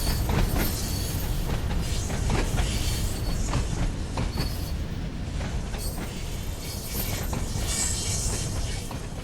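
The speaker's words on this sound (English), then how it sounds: "There's our train in motion again." Train in motion in the video game Train Sim World 5 on the Isle of Wight line at night: a steady loud rumble of rolling wheels with rhythmic clacking over rail joints and faint squeals, continuous throughout.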